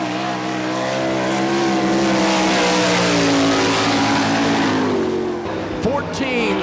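A sprint race car at a Barberville, Florida dirt speedway during All Star Circuit of Champions Speedweek roars through a lap, its engine pitch climbing and falling steadily, loud and sustained before easing off near the end.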